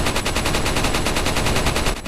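Rapid automatic gunfire in the video game Resident Evil 4, a dense, loud burst of evenly spaced shots fired nonstop for about two seconds, with no talking.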